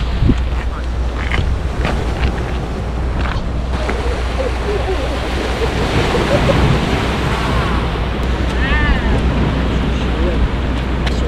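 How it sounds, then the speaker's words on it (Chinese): Ocean waves wash onto the rocky shore near Elephant Trunk Rock and a fishing harbour, a steady surf rush with wind buffeting the microphone, while people talk nearby. "你没有看过海浪吗？"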